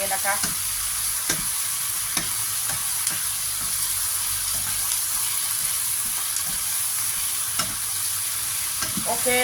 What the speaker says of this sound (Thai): วันนี้ผัดก็จะใส่น้ำมันหอยนะคะ